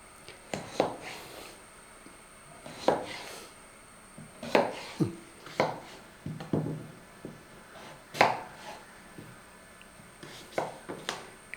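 A knife chopping washed papaya on a board into fairly thick pieces, with irregular solid thuds in small clusters, close and fairly quiet, no talk.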